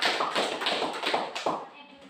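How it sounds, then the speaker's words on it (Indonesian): A classroom of students claps hands together in a dense, steady patter of close, bright claps that ends abruptly. "Iya, kasih tepuk tangan."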